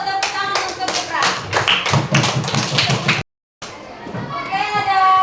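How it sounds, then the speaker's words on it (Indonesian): Schoolchildren in a fifth-grade classroom clap together in a quick burst of rhythmic hand taps for a classmate, with children's voices mixed in; the clapping stops abruptly, then a teacher's voice and room chatter follow. "tepuk tangan untuk Gibran"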